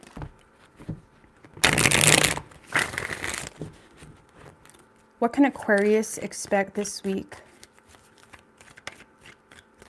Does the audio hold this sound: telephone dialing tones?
no